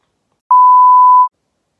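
A single steady high-pitched beep lasting under a second, loud and clean against silence.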